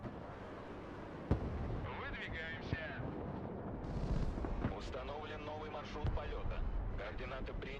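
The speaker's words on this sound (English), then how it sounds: "Ooh, is that artillery?" Artillery fire in the war game Broken Arrow thuds and booms at a distance, scattered sharp reports under game effects and voices talking.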